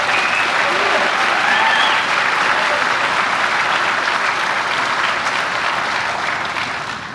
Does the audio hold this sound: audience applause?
yes